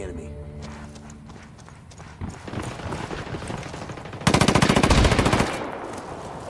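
Gunfire from the video game Ghost War, with rapid automatic bursts rattling through a busy mix, turning into a loud sustained stream of shots near the end while voices talk throughout.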